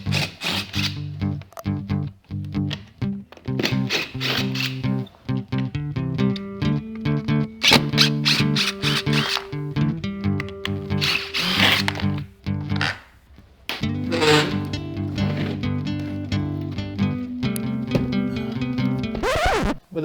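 A power drill backs four screws out of a window frame during a kitchen remodel, giving close, repeated whirring bursts that rise and fall in pitch, separated by short pauses, with no speech.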